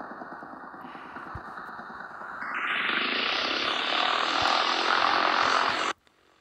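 A small propeller plane engine in a racing video game drones steadily, then revs up to a louder, higher whine for several seconds before cutting off abruptly.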